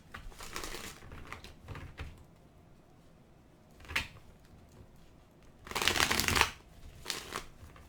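Tarot cards being shuffled in several brisk bursts, close up, separated by quiet pauses, with the longest riffle near the end.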